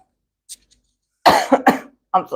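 A few sharp coughs close to the mic, the first faint and brief, followed by a cluster of louder hacking bursts.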